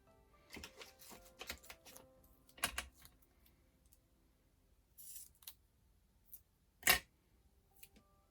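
Card-stock pieces being snipped off with scissors while making a Christmas card, a scattered run of short crisp cuts and small handling clicks, close and quiet with pauses between them.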